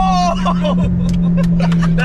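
A stock car's engine drones steadily as it accelerates hard in first gear with torque steer, heard up close from inside the cabin while people talk over it.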